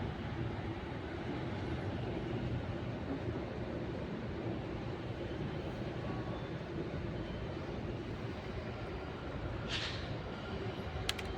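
A steady, loud rumbling roar of a metro train passing nearby, continuous throughout without pause.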